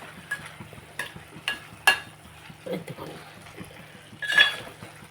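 A spoon stirs cauliflower and tomato curry in a pan, making irregular scrapes and sharp clinks against the metal over a faint, steady sizzle.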